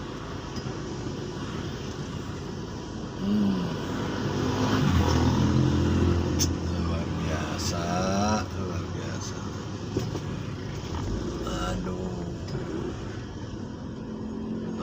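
Cars and motorcycles crawl through a traffic jam in Cimahi, engines rumbling and revving nearby with a passing motorbike swelling midway, while someone speaks briefly over the steady traffic noise.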